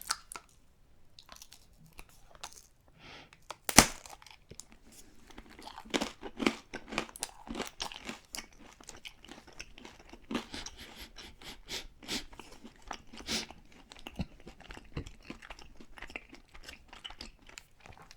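Russian military ration biscuits crunch and crumble in close, repeated bites, a dense run of crisp chewing with no talk.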